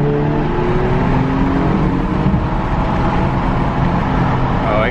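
A 2022 Porsche Panamera 4 E-Hybrid accelerates hard while merging onto a highway, a steady low engine drone from inside the cabin with rising tonal hum and road noise, constant in loudness throughout.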